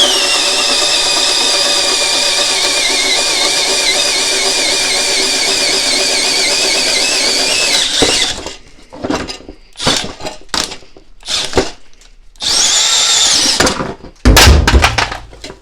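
A Milwaukee M12 Fuel hammer drill runs in hammer mode at speed 1, a loud steady whining rattle for about eight seconds, then stops and restarts in short choppy bursts with gaps between.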